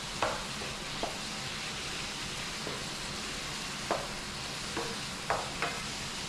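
Tomato paste for a red gravy fish stew cooks in a pot with a steady, soft sizzle, while a spoon scrapes and stirs it in a few brief, clicking strokes.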